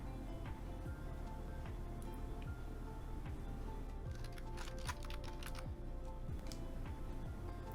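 Soft, quick keystrokes tap on a computer keyboard while a local agent's name is typed into a form field, faint and continuous beneath a low background hum.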